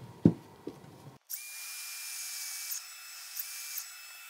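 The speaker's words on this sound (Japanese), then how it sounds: "丸のこの深さ、ホゾの高さのところまでですね、ここまで切ります。" A circular saw cuts into timber for a Japanese kanawa-tsugi scarf joint, a high steady whine that runs for about three seconds after a few knocks and clicks.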